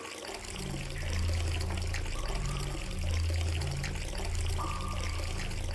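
Water pouring steadily from round holes in a hidden-object puzzle game, a continuous soft splashing flow with gentle rises in intensity, faint and without talk.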